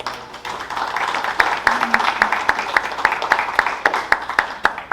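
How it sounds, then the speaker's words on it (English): Attendees at a Grand Haven board meeting give the board a round of applause: a thin scattering of individual claps from a small group, fairly close, with faint murmuring beneath. "How about a round of applause for everybody?"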